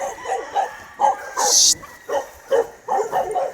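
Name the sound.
dog barking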